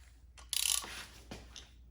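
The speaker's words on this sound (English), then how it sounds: "Just have to take off this bolt here." A ratchet rapidly clicks while loosening a bolt on a power steering pump bracket of a 2005-2009 Subaru Legacy, with a short burst of ratcheting followed by quieter metallic clunks.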